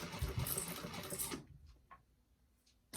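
A sewing machine back stitching a fabric bag runs in a fast, loud mechanical burst for about a second and a half, then stops, leaving a few faint clicks and handling sounds.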